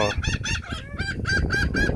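A large flock of geese squabbles over scattered food in a yard, honking in rapid, repeated bursts that overlap loudly and close by, without any talk.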